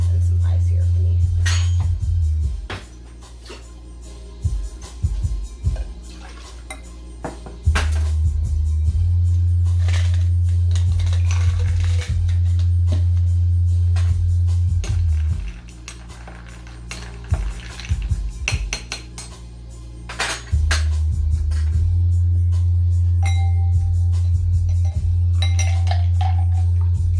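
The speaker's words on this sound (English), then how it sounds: "I'm gonna stir this in some ice here for me." A drink is stirred with ice in a glass, the spoon clinking and rattling the cubes in repeated bursts, close and fairly loud over a steady low hum, with a voice speaking at times.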